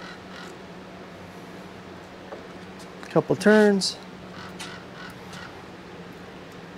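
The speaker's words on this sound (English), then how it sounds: "Hear that crow?" A crow caws a couple of times at a distance outdoors during a restoration job on a VW bus camper, brief harsh calls rising over faint background noise while a person speaks briefly.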